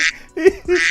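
A duck gives three short, nasal quacks in quick succession, close and fairly loud, with brief gaps between each call and no talking over them.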